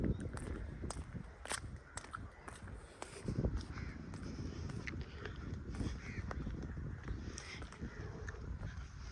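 A bird calls several times at a zoo in Pakistan, its caws faint among footsteps and ambient crowd noise in an open outdoor setting.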